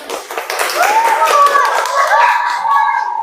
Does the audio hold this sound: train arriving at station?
no